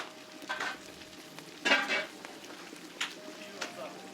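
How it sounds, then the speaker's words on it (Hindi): Whole Kashmiri haak leaves cooking with turmeric and cardamom in water in large pots, with a faint steady sizzle and scattered scraping and stirring clinks, fairly quiet, no talk. "वाजे ने पानी में हल्दी और इलायची के साथ सब्ज हाक के साबुत पत्ते इन डेगचियों में डालकर देर तक भूना"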